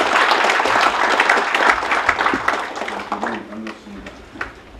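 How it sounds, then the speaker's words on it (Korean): An audience claps for a few seconds at a founding convention, the applause loud at first and tapering off, with someone speaking over the clapping. "큰 박수 다시 한번 큰 박수 부탁드립니다."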